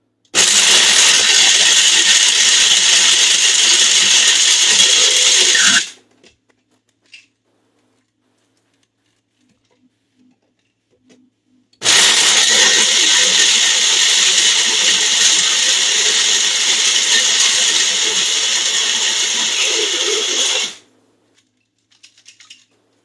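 A blender whirs loudly through green tea herbal tea with blueberries in two bursts, one of about five seconds and a longer one of about nine seconds, separated by near silence with faint clicks.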